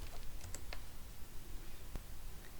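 Short burst of keystrokes on a computer keyboard while entering an image search, a few scattered quiet clicks with one sharper tap near the end, faint and close.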